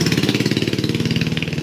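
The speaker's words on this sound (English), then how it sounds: "having some fun on the little mini bike" A modified mini bike engine with drilled carburetor jet and altered air box runs steadily at a fast, pulsing idle, close by and loud, with a rough rhythmic chug and no talking.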